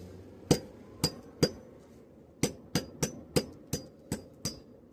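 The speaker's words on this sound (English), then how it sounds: "That's why I don't mind doing it with a hammer." A hammer striking and breaking apart ore rock, about a dozen sharp, loud blows at an uneven pace with a short pause partway through, close up and with no talking.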